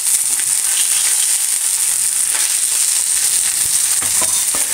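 Salmon fillets sizzle loudly in oil in a pan on high heat, a steady close hiss filling the whole stretch with no voices.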